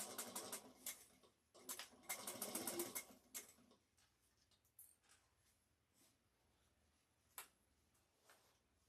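Sewing machine stitching a bag seam with a 1/8 inch allowance, a quiet rapid ticking run in short bursts, then softer scattered clicks and pauses as it slows.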